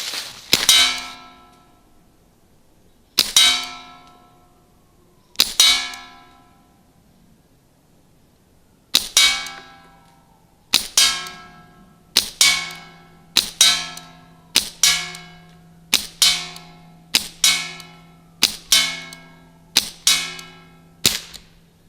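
Crosman 1077TAC airgun running on low CO2, its pellets striking a metal target with a sticker: a string of sharp ringing clangs, spaced several seconds apart at first and then coming in a quicker regular series, each ring decaying clearly.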